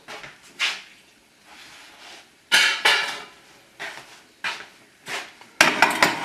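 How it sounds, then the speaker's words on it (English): Raw shrimp tossed and dusted in flour for shrimp in lobster sauce, heard as a series of short clattering knocks and soft rustles against a dish, irregular and close, with quiet gaps between bursts. "We dust the shrimps in flour"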